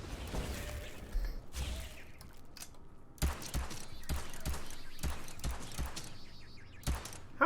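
Gunfire blasts open a gate in DARKTIMES, a twin-stick western occult horror shooter game: a rapid string of sharp shots, some spaced and some bunched together, over a faint ambient bed.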